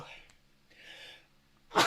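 One sudden, loud, close sneeze bursts out at the very end after a quiet, low-level room during an evening of miniature painting.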